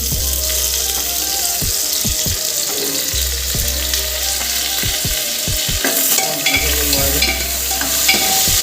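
Bay leaves and chillies fry with onions in a pan, making a loud, continuous sizzle broken by repeated clattering strokes of a stirring utensil.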